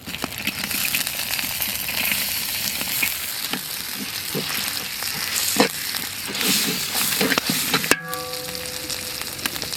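Crushed ginger and garlic sizzle and crackle in hot oil in a pan during village cooking for goat leg soup, with steady frying hiss and occasional stirring clatter, ending in a sharp knock.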